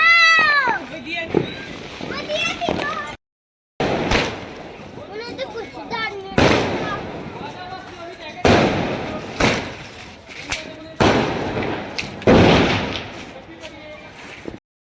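Sharp bangs and crackles of firecrackers burst at irregular intervals on a rooftop during Vishwakarma Day celebrations, amid people talking and calling out nearby.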